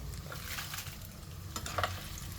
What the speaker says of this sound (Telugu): ఇదండి, ఇప్పుడు ఎండుమిర్చి వేసుకుందాం.